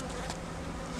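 Buckfast honeybees hum around five beehives on an industrial packaging site in Trois-Rivières, a steady, dense buzz with no speech.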